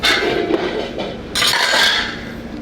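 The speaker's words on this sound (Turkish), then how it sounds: "Şimdi ocağımızı yaktık, tenceremizi" A metal cooking pot is set down on a lit stove in a ship's galley while beans are being prepared, producing loud clanks and metallic scraping at the start and again partway through, close to the microphone.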